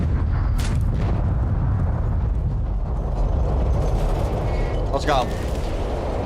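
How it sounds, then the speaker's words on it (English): A big explosion booms in an extraction shooter game, followed by a long rumbling roar, while a player talks excitedly over it. "Whoa! What an explosion, dude."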